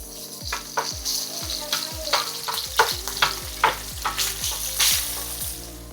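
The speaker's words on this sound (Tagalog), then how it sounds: "Lutuin naman natin yung spam. Iprituhin lang naman to." Spam slices frying in a pan, a steady sizzle broken by a run of regular clacking taps from a utensil stirring and turning the meat, close and fairly loud with no voices.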